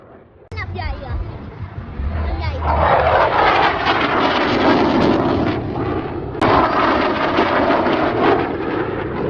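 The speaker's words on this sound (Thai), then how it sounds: "เครื่องบินบินต่อจ้ะ" A fixed-wing airplane roars loudly overhead at a children's day event, its engine noise swelling and holding steady for several seconds with people talking beneath it.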